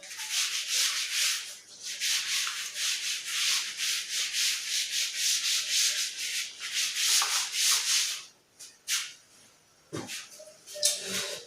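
A chalkboard being rubbed clean with quick back-and-forth scrubbing strokes, soft and close. A steady rhythm runs for about eight seconds, then breaks into a few scattered final swipes.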